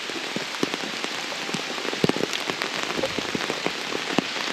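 Rain falling in a forest in a remote state park, a steady wash of drops with scattered sharper taps on nearby surfaces, continuous and moderately close with no one speaking.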